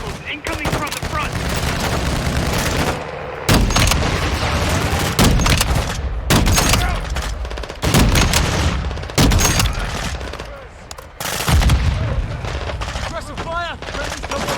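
Gunfire in the Modern Warfare 2 campaign's prison break mission: loud bursts of rifle and machine-gun fire come in repeated volleys with short pauses. Radio-style voices talk between and under the shots.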